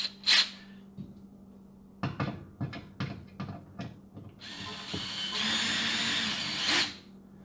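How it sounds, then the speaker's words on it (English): A power screwdriver whirs in a series of short bursts while mounting anchors for a drill holder, close by, followed by a longer steady buzzing run with squeaks and clicks between. "we're going to use our power screwdriver"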